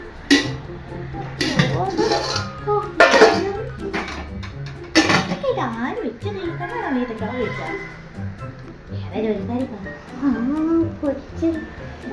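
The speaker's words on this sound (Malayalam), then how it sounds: "ഒരു പാത്രം വീണു പോയതാണ്" Several sharp metallic clangs ring out as a cooking pot falls and clatters, followed by people talking.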